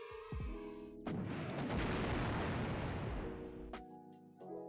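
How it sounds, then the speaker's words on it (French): A heavy explosion bursts out and rumbles loudly for about three seconds, a dense broadband blast that swells and then cuts off, set against quieter tonal sounds before and after. "Habituez-vous à ça parce que j'adore les explosions"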